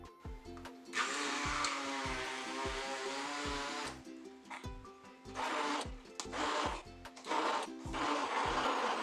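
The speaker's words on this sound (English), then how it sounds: "I am using a stick blender to break down my bananas." A stick blender whirs through bananas in a series of loud bursts, a long first run then shorter pulses with brief stops between them, close and alone.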